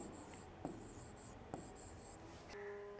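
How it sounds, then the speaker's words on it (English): Pen or pencil scratches across paper as a name is handwritten, a series of short close strokes with small taps and pauses between letters, quiet and alone. "So let's write a name, Rohan."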